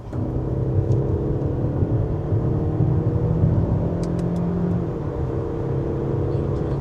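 A Mercedes-Benz E-Class engine hums and whirs steadily at speed, a smooth, fairly quiet drone with a low rumble and no voices.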